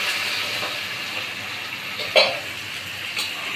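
Chicken fries in a pan with water just added, giving a steady broadband sizzle and hiss with a brief louder spit of steam partway through and another small flare near the end.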